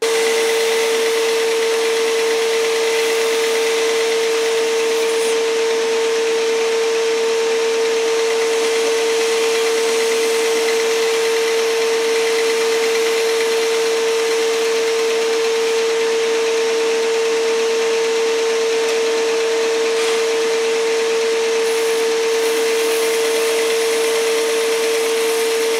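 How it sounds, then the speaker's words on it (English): A bandsaw cuts a prop knife grip blank with a steady, loud mechanical hum and a constant motor whine running unbroken for the whole stretch, with no talking. "make an outline of the grips on this blank, cut it out with a bandsaw"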